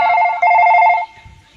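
A telephone rings with a bright, repeating electronic tone in two short bursts, loud and close, then cuts off, leaving faint background noise.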